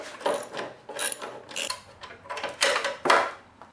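A wrench ratchets a bolt loose to remove a motorcycle's left crash bar, giving a series of close, irregular metallic clicking and grinding bursts with short pauses between.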